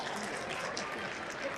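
Audience applause at a conference closing plenary comedy session, a steady wash of many hands clapping throughout, moderately distant with no clear voices.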